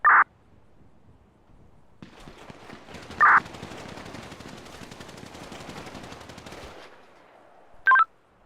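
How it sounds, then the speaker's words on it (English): Rapid automatic gunfire from a police roleplay video game rattles in one sustained burst of about five seconds, fairly loud and close, bracketed by short electronic beep tones before and after. "Shots fired, suspect down"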